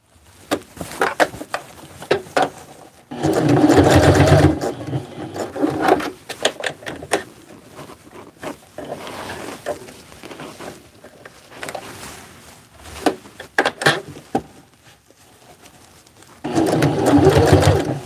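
A sewing machine stitches a Hmong baby carrier in several loud, whirring bursts of rapid stitching, separated by quieter stretches of fabric handling and small knocks.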